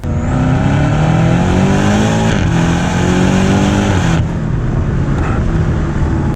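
A 2019 BMW M5 Competition being driven, its engine droning loudly and steadily from inside the car with rising and falling pitch as it accelerates and shifts through gears, no voices.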